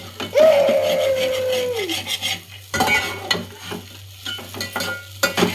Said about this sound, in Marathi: परतायचा ह्याला छान मस्त परतायचा